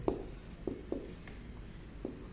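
Marker or chalk writing a ratio on a board during a maths lecture: a few short, separate tapping strokes spread out, faint and close, with no talk over them.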